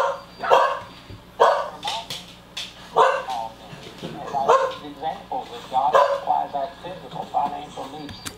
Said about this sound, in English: This dog is hyping my dog up.